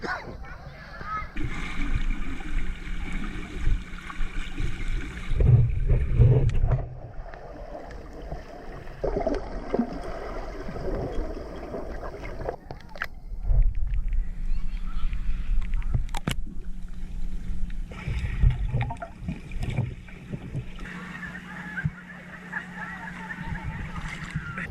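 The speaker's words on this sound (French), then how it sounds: "il y a encore plein de bateaux qui arrivent" Boat motors hum across open water at Silver Glen Springs, Florida, with splashes and sloshing waves, while people chat nearby and a camera shutter clicks.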